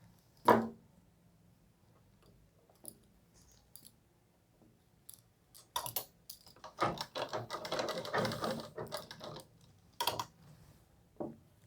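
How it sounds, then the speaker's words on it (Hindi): A sewing machine stitching a round-collar suit runs in short bursts of rapid ticking stitches, close and fairly quiet, with pauses and handling clicks between runs. "यहाँ भी सिलाई करते हुए घूम जाना है।"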